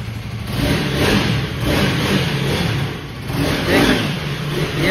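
A new black KTM Duke 250 Gen 3 motorcycle engine runs close by in a steady, loud drone with gentle swells of revving, no one talking over it.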